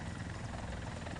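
A Mi-24 Hind helicopter in War Thunder drones with a steady, dense rotor and engine roar that fills the whole moment, loud and unbroken with no voices.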